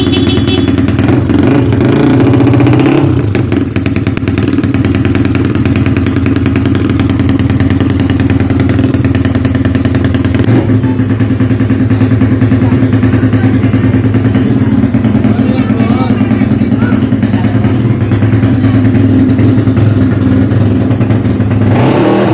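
A motorcycle engine idles loudly and close up for over twenty seconds with a steady, clattering drone, rising slightly in brief revs early on, and no voices over it.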